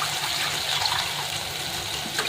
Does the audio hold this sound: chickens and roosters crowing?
no